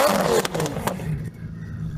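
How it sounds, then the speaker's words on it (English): A Lamborghini V10 engine snarls in a couple of sharp high-revving bursts, then fades into a lower idle rumble, heard up close without talk. "rev your V10."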